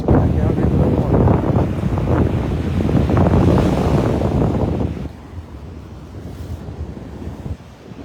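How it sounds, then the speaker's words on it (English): Ocean surf rolling onto Vanderbilt Beach in North Naples, Florida, a loud continuous wash of waves mixed with heavy wind buffeting the microphone, easing to a softer, steadier rush partway through. "Those waves just pull the sea stars back out into the water."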